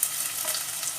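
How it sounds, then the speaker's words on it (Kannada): Ginger fries in hot oil in a pan with a steady, close hiss and faint crackle that keeps up for a short moment without any voices. "ಇತ್ತೆ ಶುಂಠಿ ಫ್ರೈ ಮಾಡ್ತದೆ"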